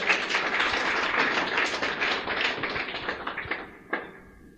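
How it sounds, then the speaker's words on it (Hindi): A steady round of audience applause fills the room, dense at first and then thinning into a few scattered, louder claps before fading out. "तालियां बजा दें इनके लिए एक बार"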